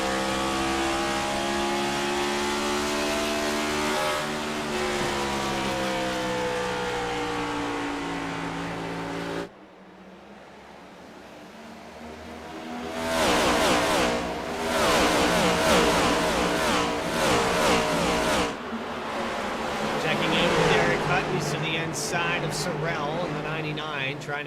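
Race cars in a racing video game round Iowa Speedway, their engines droning loudly and steadily while cars sweep past. A commentator talks continuously over the roar.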